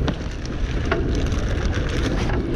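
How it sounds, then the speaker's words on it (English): Strong wind blowing across the Ohio River near an old dam, a steady loud roar buffeting the microphone with no breaks. "So we got a lot of wind to deal with out here today"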